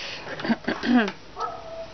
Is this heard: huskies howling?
yes